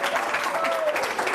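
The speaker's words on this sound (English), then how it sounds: "Give her a big round of applause." Studio applause on a morning TV news set as a teacher is honored as Teacher of the Week, a steady, fairly loud wash of clapping lasting about a second and a half, with a voice faintly mixed underneath.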